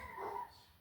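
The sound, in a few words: dogs whimpering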